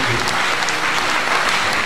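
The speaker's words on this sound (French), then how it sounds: "Applaudissons pour Jésus" A church congregation breaks into loud, dense applause for Jesus during a service, a short, steady burst of many hands clapping together.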